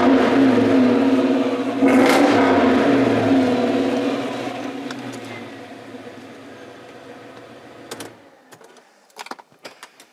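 A car's engine, fitted with an M exhaust, revs loudly in a garage, a steady droning roar that builds and then fades after about eight seconds, leaving a few faint clicks and knocks.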